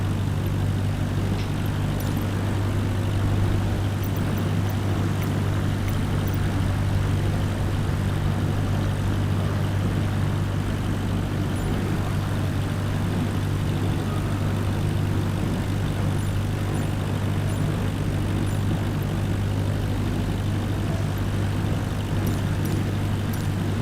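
Steady droning hum of a Cessna's propeller engine idling on the ground in Microsoft Flight Simulator, a continuous low rumble running evenly throughout without voices.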